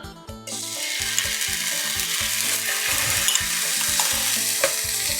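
Minced garlic sizzles steadily in a hot pan for pad thai, a loud continuous frying hiss with a repeating mechanical rattle and light scraping throughout, no voices.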